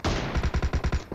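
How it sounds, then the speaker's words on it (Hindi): A rapid burst of about eight gunshots from the mobile battle royale game PUBG Mobile fires in quick, even succession, loud and close, ending abruptly. "यहाँ आप देखोगे नो स्कोप हेडशॉट"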